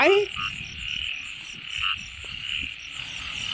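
Frogs croak at night in a steady outdoor chorus, a dense, fairly faint rasping drone with a few louder nearby calls rising above it.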